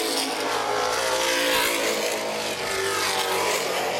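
NAPA Late Model stock cars race at Baer Field Speedway, engines roaring loud and continuous as the field runs through the corners, with no voices over the steady drone.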